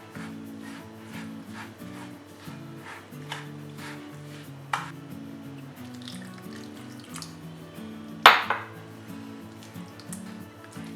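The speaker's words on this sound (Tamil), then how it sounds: "இப்போ எல்லாத்தையும் மிக்ஸ் பண்ணிக்கணும்." A bowl of rava, curd and water batter being mixed, giving soft wet squishing and occasional spoon taps, quiet under steady background music.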